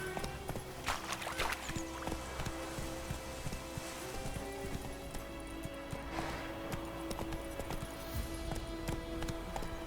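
Roach the horse gallops in The Witcher 3, a steady, close clip-clop of hooves pounding at a quick, even rhythm over a soft ambient bed for several seconds.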